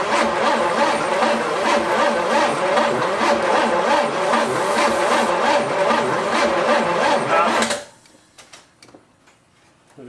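A forgotten muscle car engine after 33 years in storage cranks on the starter in a fast, even rhythmic churn for several seconds without catching, then cuts off into near silence.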